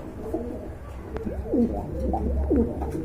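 Big Indian Kaldam running pigeons coo close by, several throaty, swooping calls repeating in a loose rhythm over low background noise, with no talking.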